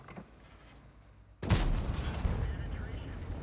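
A tank cannon fires in an online tank battle game: one sudden loud blast about midway, followed by a sustained heavy roar and rumble that holds to the end.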